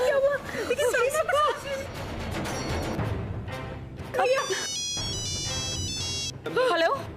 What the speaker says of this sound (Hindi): बड़ी माँ का फोन है।